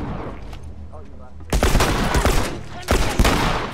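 Enemy shotgun fire in The Last of Us on PS4, a few loud sharp blasts in two clusters after a quieter stretch with some background sounds.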